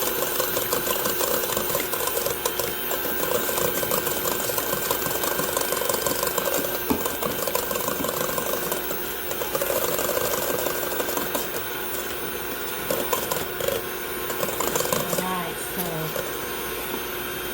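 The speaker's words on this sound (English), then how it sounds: "I'm gonna mix it on low until it gets frothy." An electric mixer on low speed whips egg whites with salt for ube meringue cookies, giving a steady close whirring drone throughout. The motor sound is continuous and moderately loud, with faint clatter from the bowl.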